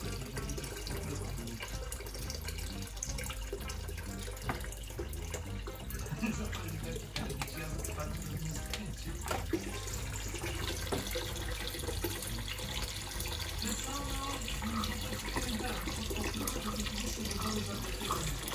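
Water from an Aquael Ultramax 2000 aquarium canister filter being poured back in, a steady splashing, gurgling flow running continuously and fairly loud throughout.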